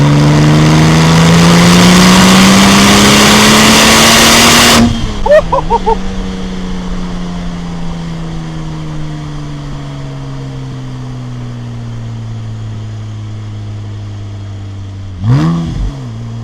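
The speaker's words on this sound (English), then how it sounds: "You can hear the turbos, you can hear the blow off, you can hear the spool" A Porsche 996 Turbo Cabriolet's twin-turbo engine revs hard and loud, climbing in pitch for several seconds as the turbos spool, then cuts off with a turbo blow-off hiss and settles into a falling idle before a brief rev.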